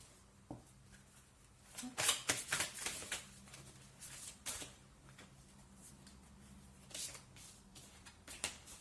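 Tarot cards are shuffled close by in quick, papery riffling bursts, with a few scattered soft taps and slides between them.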